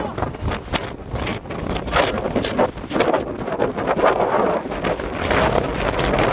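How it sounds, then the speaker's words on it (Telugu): Strong wind at Nagarjuna Sagar dam buffets the microphone in loud, gusty roars. A voice talks under the rushing noise. "ఎందుకంటే గాలి మామూలుగా లేదు"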